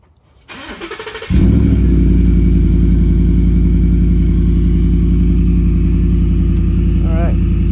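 A Ford F-150 fitted with an MBRP Street exhaust cranks with a starter whir, fires up and settles into a loud, deep, steady idle rumble close to the tailpipe.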